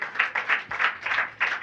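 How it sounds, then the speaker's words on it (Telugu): Audience at a church sermon clapping in short rhythmic bursts, a handful of quick claps in steady pulses, moderately close and without speech. "చప్పట్లు కొట్టాలి."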